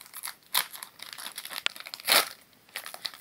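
A crinkly plastic sticker packet being torn open by hand, with sharp crackles and crunchy bursts coming in irregular clumps, close and fairly loud, with no talking.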